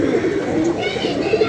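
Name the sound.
pigeons cooing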